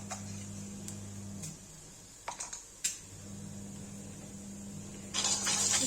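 Cumin seeds hit hot oil in a pan while a Nenua Aloo (sponge gourd and potato) sabzi is being cooked, giving faint, sparse crackles and pops that thicken into a denser sizzle at the end.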